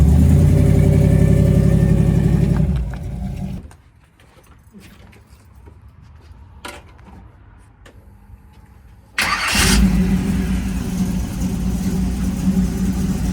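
A car engine runs loudly, drops to a quieter idle for several seconds, then roars back up to a strong steady rumble.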